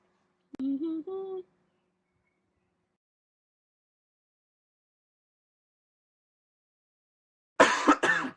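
A short vocal sound near the start, then long silence before a single loud cough at the end.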